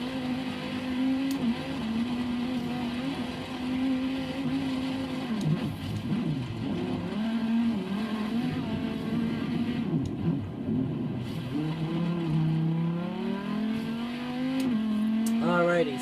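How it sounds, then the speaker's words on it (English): A race car in Forza Horizon 3 drives a dirt track section, its engine droning steadily with pitch rising and falling through shifts and corners, with a voice talking over it. "we're on the dirt track, the dirt section, which is not so good for a race car."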